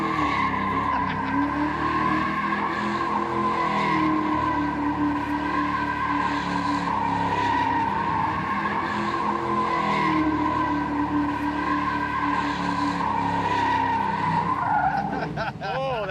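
A Mustang spins a donut, its tires screeching in a steady, loud, high squeal over the drone of the engine. The squeal runs unbroken for the whole stretch and wavers only near the end.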